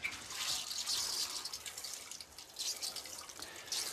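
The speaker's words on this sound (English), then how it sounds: "So I'll water it." Water poured from a can or tap onto seed compost mix in a garden setting, a steady, fairly quiet splashing and trickling with broadband hiss that swells and eases in waves, with no talking.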